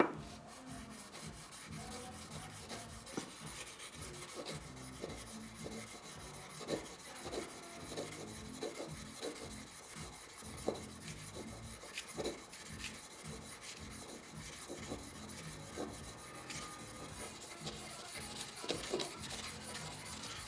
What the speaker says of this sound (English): for the initial parts of the sanding and stuff, it's better to have the blades separate